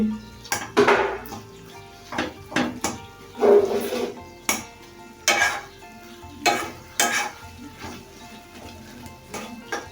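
Small fish chorchori with tomato being stirred in a pot, a metal spoon scraping and clanking against the pan in repeated strokes over a soft sizzle, close and fairly loud, with no talking.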